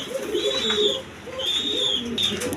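Pigeons coo repeatedly at a pigeon seller's stock, soft rolling calls rising and falling in two clear phrases over low background noise.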